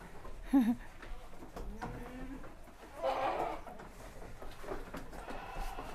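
Goats in a livestock pen on a farm, including Boer, Saanen and Etawah types, let out a few short bleats amid faint shuffling and murmured voices nearby.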